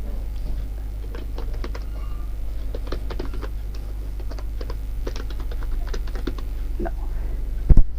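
Steady keyboard typing on a computer, entering email and account details, with irregular clusters of keystrokes over a constant low hum and a louder clack at the end.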